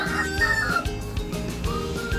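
A labuyo jungle fowl rooster, a Philippine native chicken, crows and clucks close by, loud and insistent, with a busy layer of background noise throughout.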